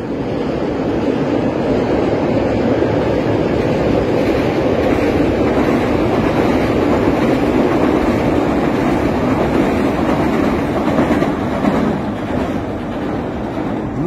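A loud, steady rumbling roar of a train rolling along the tracks, continuous and close, with a broad wash of rail noise throughout.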